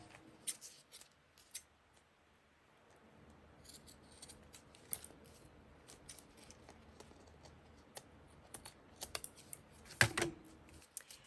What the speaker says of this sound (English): Let me trim this up.